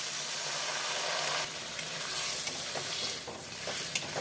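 Ground mustard paste with salt sizzles steadily in a hot pan after a little water is added, for a bean (shim) chachchori, with a constant close frying hiss and a few brief crackles and no talk.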